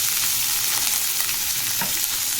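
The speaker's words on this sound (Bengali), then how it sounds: "পেঁয়াজটাকে আমি একটু লাল লাল করে ভেজে নেব।" Chopped onion fries in hot oil, giving a steady close sizzle with a faint scrape or stir near the end, and no talking.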